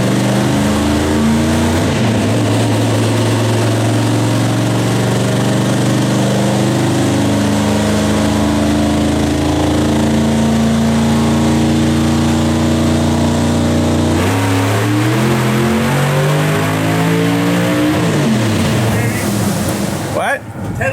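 A 1000 whp Hemi engine screams through a dyno pull, its pitch climbing steadily at full throttle, dropping briefly and then climbing again, loud and close throughout with no talk over it.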